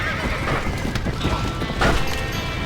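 Panicked horses whinny and neigh inside a burning barn in the Red Dead Redemption video game, loud high cries over a dense roar of fire and commotion, with hooves clattering.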